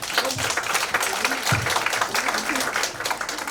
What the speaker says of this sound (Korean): 우리 총재님 나오실 때 큰 박수를 맞이하겠습니다.